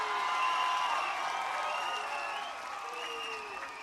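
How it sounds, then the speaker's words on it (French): Crowd applauding at an outdoor rally in Paris, Nation: a steady, dense wash of clapping with a faint tonal sound running underneath, holding its level before easing slightly. "Applaudissez."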